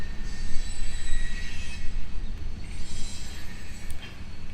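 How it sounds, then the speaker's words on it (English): A train rolling past on the rail line through Sainte Genevieve, Missouri, its wheels letting out a sustained high metallic squeal over a dense, steady rumble of cars, fairly close, with no voices. "Well, that's noise courtesy of the train."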